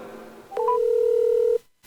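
A quick run of telephone keypad tones leads into one steady, loud dialing tone held for about a second before it cuts off, with nothing else heard.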